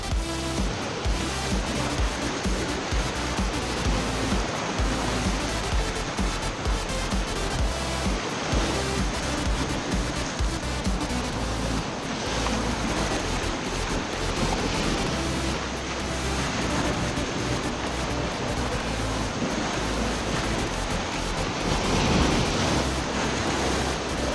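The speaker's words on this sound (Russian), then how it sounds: "Ощущаешь себя на море. Волны." Lake waves wash steadily ashore during a fishing trip in Mongolia, a continuous close roar of surf and water with wind buffeting the microphone throughout.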